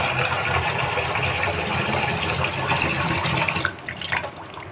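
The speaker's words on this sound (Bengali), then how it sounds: "চালটাকে ধুয়ে নিলাম।" Running water pours steadily over rice being rinsed for taba pulao, a constant splashing hiss that breaks into softer sloshing near the end, with no talking.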